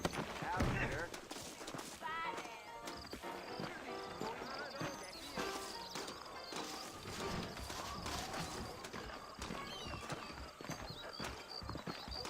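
Horse hooves clip-clop at a steady pace in Red Dead Redemption on Xbox 360, with an occasional whinny, while voices talk over them.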